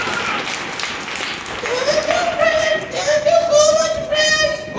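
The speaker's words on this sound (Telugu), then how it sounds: "టింకుకి ఒకసారి అందరూ గట్టిగా క్లాప్స్ కొడదాం" Children at a church camp for young kids clap together for a little boy after his song, a brief burst of applause mixed with voices and tonal singing.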